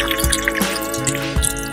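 Water splashes and drips while goat tripe is washed by hand, irregular wet drops and trickles over a running stream, close and fairly loud, with no talking.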